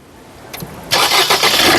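A 2017 Maruti Suzuki Ciaz ZETA engine starts: a brief starter crank, then the motor catches and settles into a loud, close idle.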